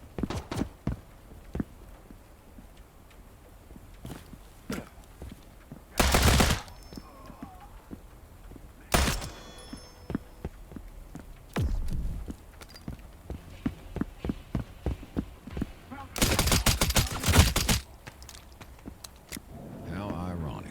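Video game gunfire from enemies crackles in sharp scattered shots and several dense bursts of rapid fire, loud and close, with a voice talking over it at times.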